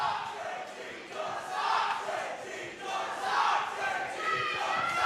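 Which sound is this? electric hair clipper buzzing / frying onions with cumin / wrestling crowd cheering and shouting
wrestling crowd cheering and shouting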